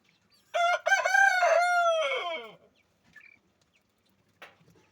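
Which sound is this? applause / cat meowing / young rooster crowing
young rooster crowing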